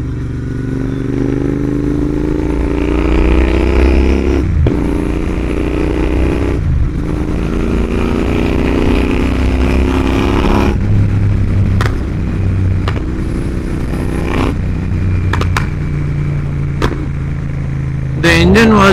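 A Royal Enfield Interceptor 650 motorcycle engine accelerates in first gear on a top-speed run, a loud, steady engine drone with rising harmonic tones broken by brief gaps at gear-like pauses, with some clatter near the end.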